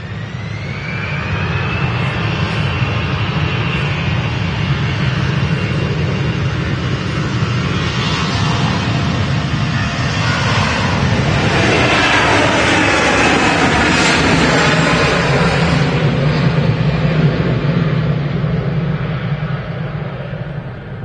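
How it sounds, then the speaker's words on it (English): A Jet2 Airbus A321 jet takes off from Manchester Airport bound for Tenerife, its engines building to a loud, sustained roar with a rising whine that sweeps and shifts as it passes close by. "A321 going to Tenerife"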